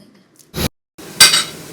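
Dishes and cutlery clatter in two short bursts while washing up, with a brief scrape and clink, then a louder splash-like scrubbing rush, close and without talk.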